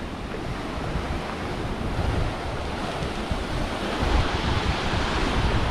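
Steady sea surf roars continuously against a sea pier in Thalassery, mixed with gusty wind buffeting the microphone, loud and unbroken throughout.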